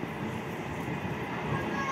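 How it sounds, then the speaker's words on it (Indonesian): A Whoosh high-speed train arrives at a station platform, a steady rushing rumble with a faint high whine, moderately loud and continuous over the short span. "Nggak lama setelah kami sampai di peron 2, kereta cepat dari Tegal Arum sudah datang nih sobat"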